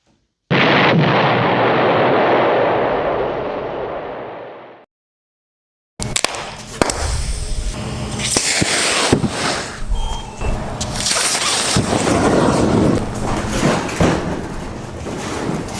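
A LiPo battery bursts into flame with a loud sustained roaring hiss that fades out, followed after a pause by crackling, popping outdoor noise.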